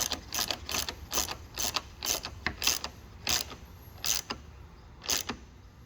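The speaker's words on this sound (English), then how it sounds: "Now we'll use our 13mm socket to secure this into place." A 13mm socket ratchet tightens a lift bracket on an 8th-gen Honda Civic Si, making bursts of quick clicking in short sweeps with pauses between them, close and moderately quiet, with no talking.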